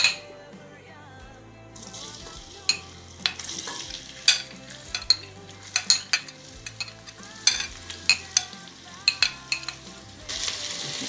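Onions frying in hot oil for a Nigerian meat pie filling, a steady close sizzle with repeated clinks and scrapes of a spoon stirring the pan, no talk.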